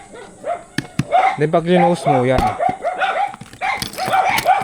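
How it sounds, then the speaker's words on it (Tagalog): Several dogs bark repeatedly nearby, with sharp yips and a few longer howling barks, mixed in with someone talking over them. "Sensya na maingay yung mga aso."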